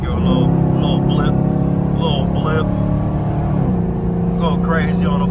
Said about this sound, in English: We warmed up too, so we can go ahead and give it a little blip